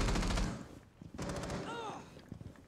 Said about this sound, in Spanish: ¿Dónde están disparando?